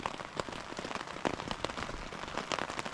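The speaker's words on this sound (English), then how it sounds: "It's now raining." Rain patters on a surface at a mountain campsite on the Villarrica traverse, a dense, quiet spread of small irregular drops with occasional sharper taps, no voices.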